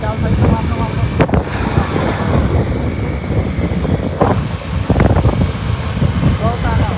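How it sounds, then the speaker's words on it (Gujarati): Strong wind gusting across an outdoor microphone on a rainy day in Dahegam, Gujarat, a steady loud rumble with buffeting bursts, while someone talks over it throughout. "અત્યારે તો પવન પણ જોરદાર આવી રહ્યો"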